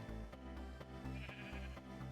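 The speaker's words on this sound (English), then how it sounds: "is that a freaking pink sheep?" A pink sheep in a Minecraft-style hardcore survival world bleats in a loud, steady, wavering call with a few quick pulses, close by and clear, with no talking over it.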